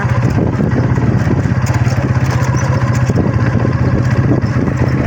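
A motorcycle engine runs steadily beside the Ravi river, a close, loud, continuous low throbbing hum with a regular idling pulse and no breaks throughout.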